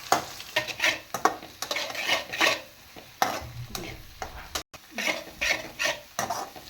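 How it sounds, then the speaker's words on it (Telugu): Eggs fry in oil for fried rice while a spatula scrapes and stirs them in the pan, giving repeated metallic scraping strokes over a soft sizzle. "ఎగ్స్ వేసేసాం కదా, ఇవి బాగా ఫ్రై అవ్వాలి"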